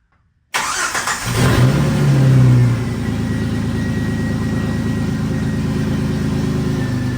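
A Jeep Wrangler TJ 4.0L engine with no muffler cranks and roars to life, revving loudly with a raw, unmuffled rasp before settling into a steady, rumbling idle.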